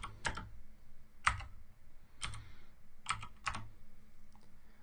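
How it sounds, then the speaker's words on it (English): Keystrokes on a computer keyboard while typing PowerShell commands, heard as five or six sharp clicks spaced about a second apart, a couple in quick pairs, close and clear over quiet room hiss. "then I could simply type"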